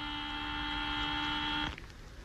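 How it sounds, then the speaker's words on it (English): A steady electric buzzer sounds in a radio drama, as a crew suits up in spacesuits. It holds one unbroken tone, fairly loud and close, for under two seconds, then cuts off abruptly, leaving faint room noise. "Buzzer, will you?"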